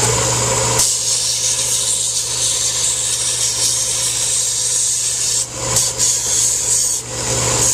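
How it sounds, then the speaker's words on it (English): A small belt sander runs with a steady motorized whir and gritty grinding against copper edges, a few brief breaks in contact near the end. "Go to one of our mini belt sanders."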